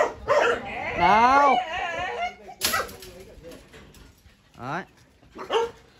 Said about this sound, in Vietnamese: Sủa kìa, gớm chưa kìa?